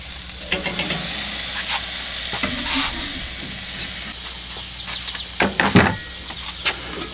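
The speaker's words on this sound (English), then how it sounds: "we're gonna put our bacon weaves on here" Bacon weaves sizzle steadily on a sprayed griddle for a breakfast burger, a constant broadband crackle with scattered louder pops and scraping clicks from handling, close and loud with no talking.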